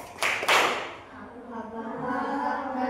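An Indonesian school class does a rhythmic clapping chant, with a few sharp, close claps in quick succession followed by voices chanting together.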